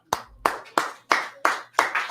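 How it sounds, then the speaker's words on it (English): Six slow, evenly spaced hand claps ring out one after another, crisp and fairly close, each fading before the next, with no voices. "Clap it up"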